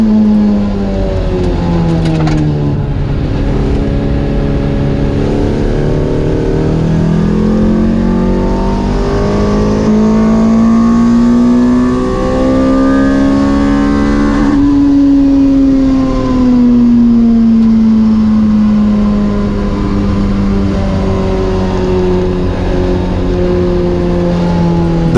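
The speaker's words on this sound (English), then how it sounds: "it's so nice to have engine sound inside the cabin" A 2ZZ-swapped Lotus MR2 Spyder engine drones loudly inside the cabin during a time attack race, its pitch climbing and falling steadily through sustained revving and acceleration with no break.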